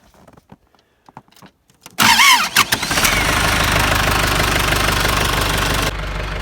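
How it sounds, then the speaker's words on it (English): A John Deere 2755 tractor with a newly fitted starter cranks briefly after some faint clicks, then fires up and settles into a loud, steady diesel idle close by. "The tractor's running."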